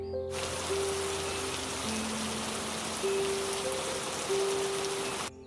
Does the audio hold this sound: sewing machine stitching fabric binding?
no